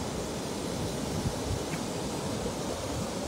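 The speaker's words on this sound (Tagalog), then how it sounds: "ang lakas ng hangin, Dol." Strong wind blowing by a river, a steady broadband roar of gusts buffeting the microphone, continuous and close, with no voices over it.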